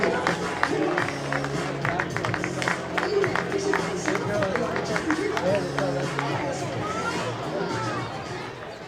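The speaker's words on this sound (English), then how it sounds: "How about a round of applause?" Crowd at a baseball game clapping and cheering for hula hoop contest winners: busy applause and chatter throughout, with a stadium announcer speaking over it.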